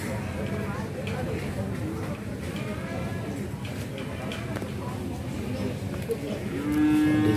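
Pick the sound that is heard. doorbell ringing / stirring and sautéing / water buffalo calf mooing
water buffalo calf mooing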